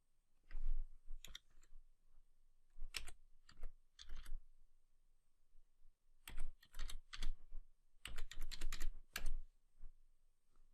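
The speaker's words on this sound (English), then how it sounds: "type in the public IP address" Typing on a computer keyboard to enter an IP address in a browser, heard as close bursts of quick key clicks separated by short pauses, with no talk.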